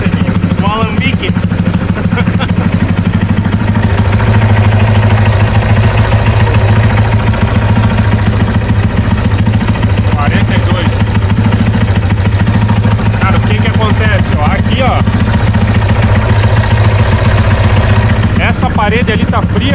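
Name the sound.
small water-cooled motorcycle engine running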